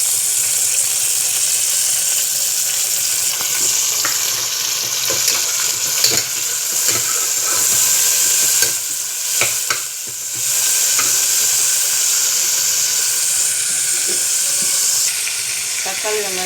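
Onion and tomato sizzle in a pan for a vegetable biryani, a steady frying hiss broken by scraping stirs and occasional louder crackles.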